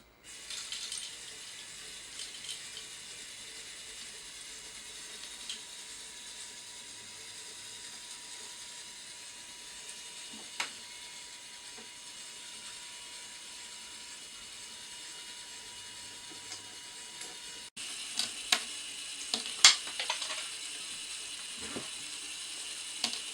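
A LEGO Technic bucket wheel excavator and its conveyor belt run with a faint, steady mechanical whir. Small plastic clicks and ratcheting taps come and go, and a denser burst of clatter arrives near the end.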